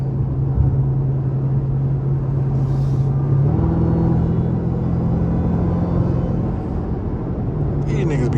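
A Dodge Hellcat Jailbreak engine cruises slowly in the city with a steady, low rumbling drone. The pitch steps up slightly partway through, then stays even and continuous.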